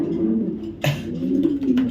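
A male blue checker racing pigeon gives low, soft throaty coos close by, with a brief rustle or flap in the middle.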